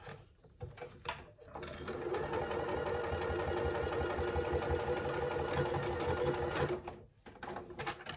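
A sewing machine stitches a zip pouch pocket, its needle mechanism whirring in a fast steady rhythm for several seconds, with short bursts and pauses at the start and end as the fabric is repositioned.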